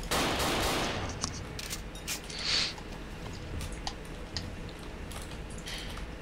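Sniper rifle fire in the game Dino D-Day during a T-Rex deathmatch: sharp isolated gunshot cracks scattered over steady background noise, with a denser burst of firing at the start.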